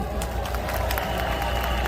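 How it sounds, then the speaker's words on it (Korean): A large outdoor rally crowd of thousands in front of city hall, applauding and cheering in a continuous broad roar with scattered claps and shouts, loud and steady for about two seconds. "모두 서로에게 큰 박수 쳐주십시오."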